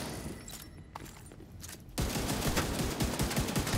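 Video game shooting heard as dense rapid gunfire, faint and sparse at first, then a sudden loud burst of fast repeated shots that keeps going to the end, with no talk.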